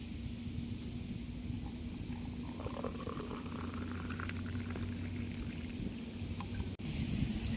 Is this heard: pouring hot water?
yes